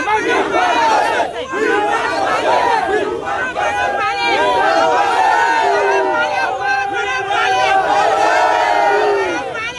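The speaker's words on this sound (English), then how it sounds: "So this is just minute portion of the crowd, a very minute portion of it." A large crowd of protesters marching for justice for a truck driver, chanting and shouting together in a loud, continuous, close mass of overlapping voices.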